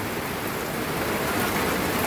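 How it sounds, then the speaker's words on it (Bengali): Steady rain falling continuously with an even, close wash of drops on surfaces, loud and unbroken throughout, with no voices. "কিন্তু এই বৃষ্টির মধ্যে তো বেরই হতে পারবো না।"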